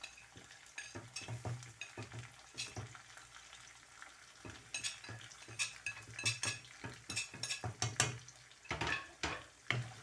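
Tomatoes and spices stirred and fried in a pan for dal fry, with repeated sharp spoon scrapes and clinks over a low, steady sizzle, close and moderately loud throughout.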